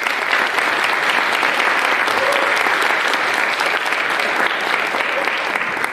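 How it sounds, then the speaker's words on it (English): A concert hall audience at a high school jazz and orchestra showcase gives an accompanist a sustained round of applause, loud, dense and close, holding steady throughout with a faint voice briefly audible beneath. "We can please give her a round of applause."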